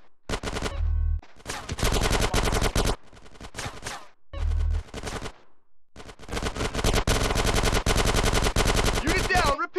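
Video game gunfire in GTA San Andreas, loud bursts of rapid automatic shots in several clusters separated by short pauses, close and dominant.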